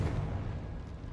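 Confringo blasting spell explosion in Hogwarts Legacy, a short deep boom with rumbling low end fading over about a second.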